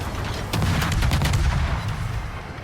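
Naval gunfire from warships in the World of Warships video game, a cluster of sharp booming shots layered over a low rumbling background, fairly loud, lasting a couple of seconds.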